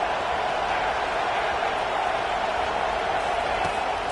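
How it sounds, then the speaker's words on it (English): A stadium crowd at a UCLA versus USC college football game roars loudly and continuously, a dense, unbroken wall of cheering with no clear swells or pauses. "Listen to this crowd just shaking the girders of this place"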